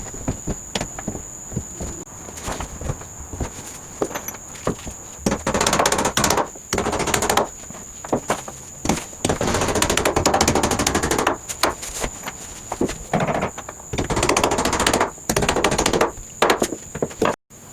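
Rapid bursts of sharp nail-gun shots drive fasteners into subfloor decking, loud and close, separated by brief gaps and footsteps, with a steady high whine running underneath.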